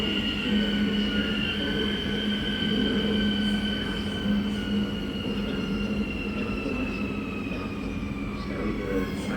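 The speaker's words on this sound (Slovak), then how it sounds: "Osobný vlak linky S2 železničnej spoločnosti Slovensko" A Slovak passenger train on line S2 pulls into a station platform, its wheels squealing in long sustained tones over a steady rolling rumble that holds loud and close throughout.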